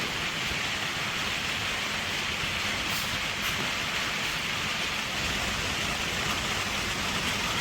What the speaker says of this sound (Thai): ฝนฝนก็เริ่มตก เริ่มตกอีกแล้วนะครับ